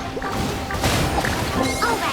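A loud explosive burst from the Genshin Impact video game, with crashing, whooshing impacts and effect sounds filling the whole clip.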